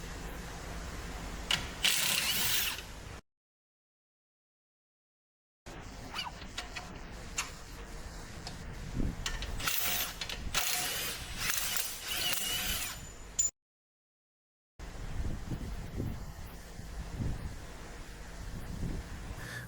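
A ratchet clicking close up while a sway bar link is unbolted from a Chevrolet strut assembly, in bursts of rapid pawl ticks and metal handling separated by two short gaps of silence.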